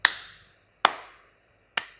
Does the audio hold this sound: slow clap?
yes